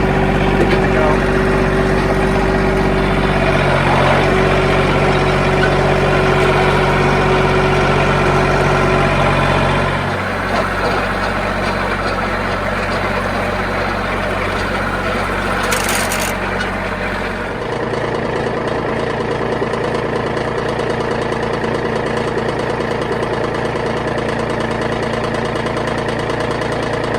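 A tractor engine runs steadily at about 2000 rpm while hitched to a hay tedder-rake combo, a close and continuous low drone that shifts in tone partway through, with someone talking over it.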